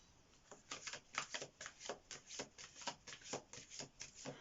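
Oracle cards shuffled during a tarot reading, a steady sequence of soft, close card riffles and slides repeating roughly every quarter second, moderately quiet with a faint hiss underneath.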